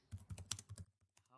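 A brief burst of close, quiet key clicks on a computer keyboard, cut off near the end by a voice.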